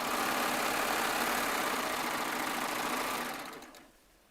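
A Baby Lock Triumph serger stitches a quilt top with a loud, steady motorized whir and rapid needle chatter, running continuously for about three seconds before winding down and stopping.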